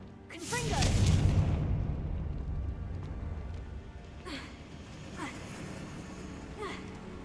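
A loud fiery blast from a Confringo spell bursts out early in Hogwarts Legacy, then fades into quieter game ambience broken by a few brief whooshing swishes.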